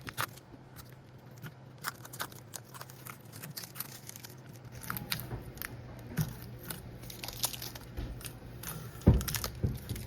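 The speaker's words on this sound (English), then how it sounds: "taking the tape off like this" Masking tape being peeled off the painted body of an HO scale model tugboat, soft crackling and tearing sounds in scattered bursts, close and quiet, with a slightly louder snap near the end.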